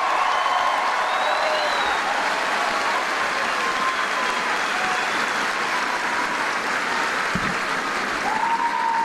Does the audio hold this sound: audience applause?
yes